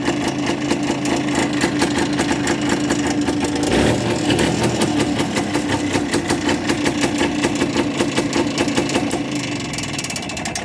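A Muravey motor scooter engine running steadily, a dense buzzing mechanical drone with rattling, close and loud, continuous throughout without speech.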